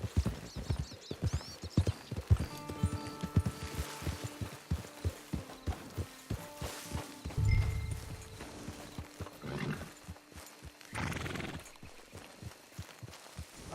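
Horse hooves clip-clop on the ground in Red Dead Redemption Online, a fast, close, regular rhythm of sharp knocks with a brief snort or whinny partway through.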